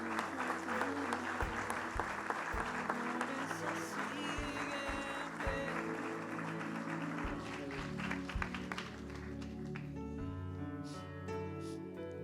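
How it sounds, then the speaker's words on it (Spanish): A church congregation claps during a sermon, moderately loud and continuous, mixed with low sustained music tones that carry through and ring on as the clapping thins toward the end. "Dale un aplauso al Señor."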